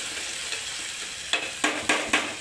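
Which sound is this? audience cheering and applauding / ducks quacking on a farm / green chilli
green chilli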